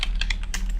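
Rapid keystrokes on a computer keyboard while declaring a float variable in VEX code, a quick run of close, crisp clicks with uneven spacing and no talking.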